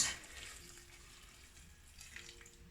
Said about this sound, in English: I'm gonna add half of the amount of fresh boiling water.